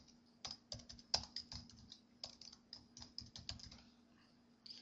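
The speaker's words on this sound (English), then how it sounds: "I will type Hot Deals in the category name." Fingers tap on a computer keyboard in short, irregular bursts of crisp, close clicks with small pauses between them, faint and alone in a quiet room.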